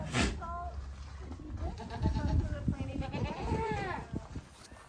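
Male goats (bucks) bleat in their pen on a farm, several wavering nearby calls overlapping amid shuffling and background noise.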